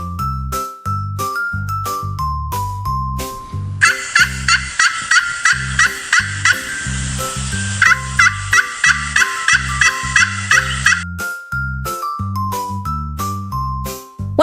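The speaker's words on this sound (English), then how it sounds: "Gobble, gobble, it's a turkey." A turkey gobbles in a long, rapid, rattling run of repeated calls that lasts several seconds, heard over cheerful, jingling children's music.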